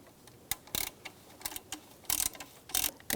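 Ratchet tightening a bolt during a timing belt job on a 2004–2009 Subaru Outback: quick bursts of close metallic clicking, several short strokes with pauses between them, fairly quiet.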